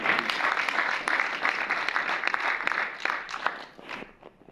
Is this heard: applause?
yes